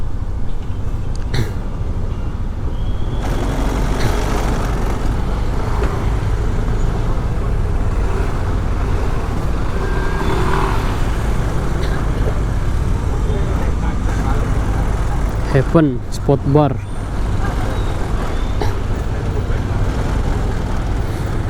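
Dense evening traffic jam on a busy road in Bali: a constant low rumble of cars, buses and motorbikes idling and creeping, with a brief horn-like burst near the end, while someone talks over it throughout.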